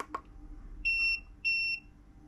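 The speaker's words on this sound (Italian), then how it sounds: "e il beep test" A KINGBOLEN BM580 diagnostic scanner runs its beep test, giving two short, clear electronic beeps about half a second apart, close and distinct after a faint tap.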